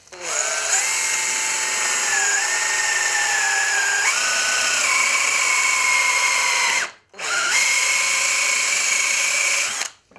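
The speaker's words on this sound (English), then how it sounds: "just going to put a drill through there" A power drill bores through pallet wood while a plant pot stand is built, a loud, close, steady motor whine that rises in pitch partway through, cuts out briefly near the end, then resumes until stopping.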